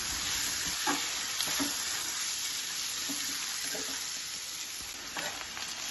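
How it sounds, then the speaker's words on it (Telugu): Broad beans stir-fried with salt and turmeric give off a loud, dense, continuous sizzle, with occasional soft scraping strokes as they are turned in the pan; close and steady, no voices. "ఇంకా దగ్గర ఉండి చక్కగా తిప్పుతా ఉంటే బాగుంటుంది"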